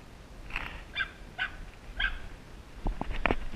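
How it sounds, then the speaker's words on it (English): A dog barks from a lakeside dock area, a handful of sharp, mid-distance barks spaced about half a second apart, followed by a few duller knocks, all over quiet outdoor background. "Little Toto up there is barking pretty good"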